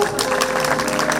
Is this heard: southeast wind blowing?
no